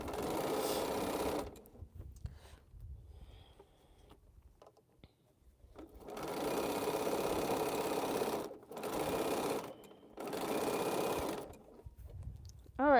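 A sewing machine pieces cotton quilt rows, whirring in short runs separated by quiet gaps where only faint handling sounds remain, close and moderately loud.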